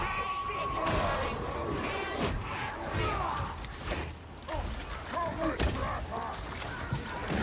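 Plasma guns fire during a Darktide battle with an Ogryn, rapid mechanical bursts and clanking shots in irregular clusters over busy combat noise, with voices talking at times.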